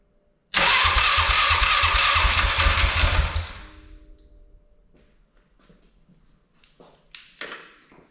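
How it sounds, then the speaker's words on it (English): A rebuilt Polaris Sportsman 500 ATV engine cranks and fires, roaring loudly for about three seconds before dropping away to a quiet low idle, with a couple of sharp taps near the end. "Just gonna hit the starter real quick and make sure that works like it should."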